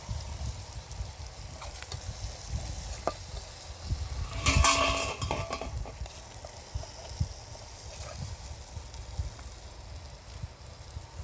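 Onion masala with chili powder and turmeric is stirred in a pan, a quiet scraping and soft sizzle with a brief louder clatter of the spoon near the middle.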